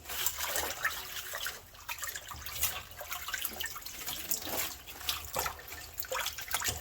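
Tap water runs steadily into a kitchen sink while mustard greens are rinsed, a continuous close splashing rush with small surges and no voices.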